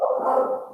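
A dog barks indoors in the background during a talk show, one sustained bark-like burst lasting under a second with no speech over it.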